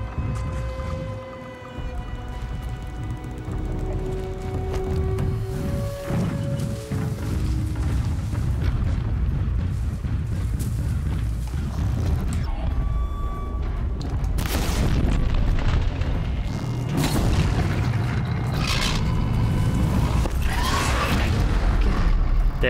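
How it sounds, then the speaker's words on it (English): In Horizon Zero Dawn, a deep booming explosion rolls out amid ongoing game sounds. Heavy low rumbles and several sharp blasts hit loudest in the second half, and everything else stays steady and dense with no talk. "We exploded it."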